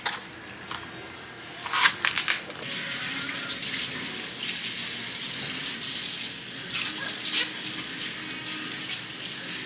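Tap water pours and splashes while bok choy leaves are rinsed in a sink, a steady close stream with a few louder clattering bursts near the start.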